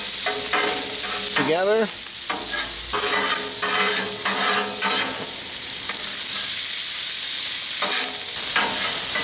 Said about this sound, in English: Give this a good stir, try to get all this meat